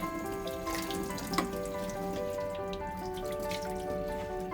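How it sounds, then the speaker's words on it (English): Warm tap water runs steadily over a coffee machine's bean container being rinsed clean of soap in a sink, a continuous close splashing stream with a brief clatter partway through. "be sure to rinse thoroughly to remove all residual soap"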